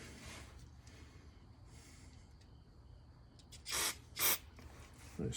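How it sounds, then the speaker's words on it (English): Two short, sharp hissing sprays burst out close together near the end as a fuel injector solenoid is engaged during cleaning, over a quiet low mechanical hum. "Hopefully you can see it spraying out here."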